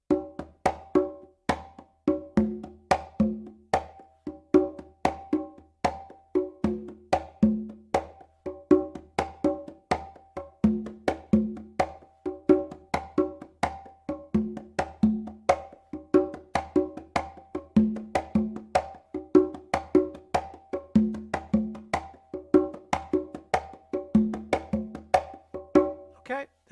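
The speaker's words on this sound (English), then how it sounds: "let's try another Cuban dance called the Guajira" Hand percussion playing a slow Cuban guajira dance rhythm, a steady repeating pattern of crisp slaps and resonant open tones, close and alone throughout.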